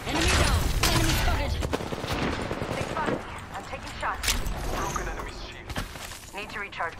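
Rapid gunfire crackles through an Apex Legends match, with dense bursts up front and scattered shots afterward, mixed with in-game voice lines and player chatter.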